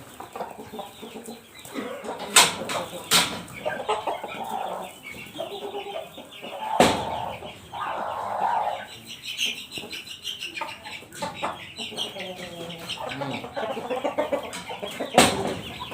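One-month-old red chicks of a fighting-cock line cheep and cluck steadily, close by, with a few sharp knocks scattered through and no talk.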